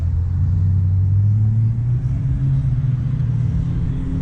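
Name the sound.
car driving off for a cruise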